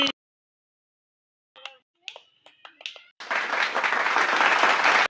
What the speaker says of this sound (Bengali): হাততালি, আবারও হাততালি।